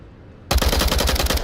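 Rapid automatic gunfire from an Onward VR match bursts in after half a second of near silence, a loud, dense rattle of repeated shots with no talking.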